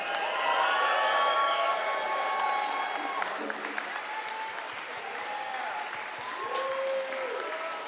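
A concert audience applauds a summer camp's senior symphonic band and its conductor at a last-day concert, sustained dense clapping with some cheers, while brief tonal sounds drift over the applause.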